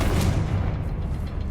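A Confringo spell explosion in Hogwarts Legacy, a deep booming blast with a sharp crack at the start that rolls on as a heavy rumble, loud and close.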